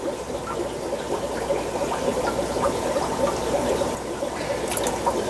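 Water swirls and trickles in an aquarium tank as it is stirred to lift Blue Gularis killifish eggs off the gravel, a continuous close liquid sloshing with small splashy accents and no talking.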